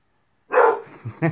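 A dog gives a single loud, close bark followed by a shorter, softer yip, alone with no talking.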